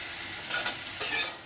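Chicken going into a hot pan with ginger-garlic paste for garlic chilli prawn, giving two loud bursts of hissing sizzle with stirring over a constant frying hiss.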